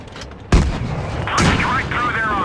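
Tank cannon fire in the mobile video game World of Tanks Blitz, one loud sharp boom with a rumbling tail, followed by game effects and a second rising burst.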